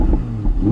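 An Audi R8 V10 RWS in dynamic mode with its exhaust valves open, the engine giving a loud, close, deep rumbling rev that swells and dips briefly.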